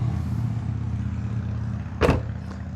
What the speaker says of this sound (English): Sorry about the loud noise on this street.